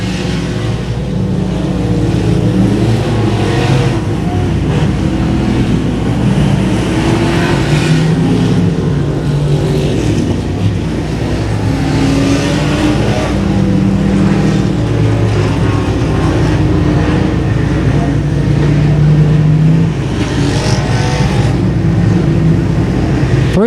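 Race cars roar around an oval track on the opening lap of the Star-Spangled 200, a continuous loud engine din with rising and falling pitches as cars pass in a dense pack.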